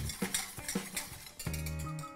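Harissa being mixed with fish stock in a bowl, quick clinks and taps of a utensil against the dish, close and fairly quiet.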